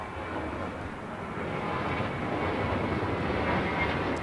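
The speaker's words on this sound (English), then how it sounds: "646 coming in from Mexico City on the 787-8 Dreamliner. Yes, a little reverse action here at LAX." Aeromexico Boeing 787-8 Dreamliner landing at LAX from Mexico City, its engines in reverse thrust making a steady, loud broadband roar that swells slightly as it continues.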